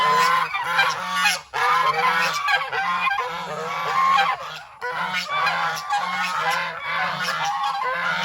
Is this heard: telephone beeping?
no